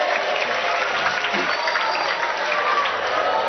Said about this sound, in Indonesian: Tepuk tangan buat Faisal.